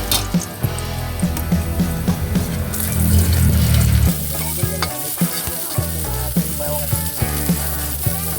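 Onions frying in hot oil in a pan for chicken liver macaroni soup, a loud steady sizzle that swells briefly as they hit the oil, with utensil clinks and stirring scrapes throughout.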